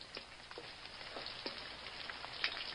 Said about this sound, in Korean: 비 오는 소리지?